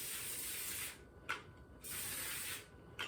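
Cooking spray misted lightly over a parchment-lined baking pan for pumpkin rolls, two steady hissing bursts of about a second each with a short gap, close and fairly quiet.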